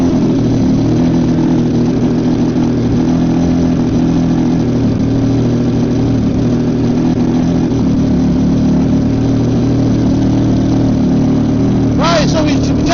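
Three-cylinder car engine idling steadily nearby, a loud continuous low rumble with an even firing beat, and a short clatter near the end.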